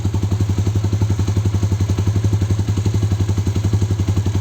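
An old Honda CB150R motorcycle idles with a deep, bassy aftermarket WRX GP3 full-system exhaust, a steady rapid thumping pulse, close and loud, with no other sounds.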